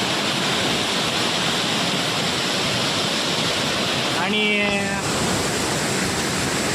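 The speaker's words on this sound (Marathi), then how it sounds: "हा जो धबधबा आहे ना" Steady roar of rushing water from a waterfall at Nivedi village fills the whole clip, loud and constant, with a brief spoken word near the end.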